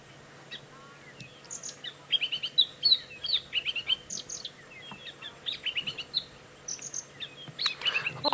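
A white-browed scrub robin on a sunset safari drive, calling in quick repeated bursts of bright chirps and whistles that keep going without pause, fairly close over a quiet background.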